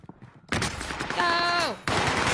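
Video-game gunfire in a squad shooter, a dense burst of rapid shots starting abruptly and continuing for about two seconds, loud and close, with a rising tonal whine cutting through mid-burst.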